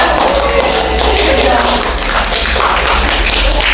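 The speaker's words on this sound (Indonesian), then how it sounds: "Tepuk tangan untuk semua" A high school chemistry class claps hands together, a loud, dense patter of close clapping that runs steadily throughout with a low hum underneath.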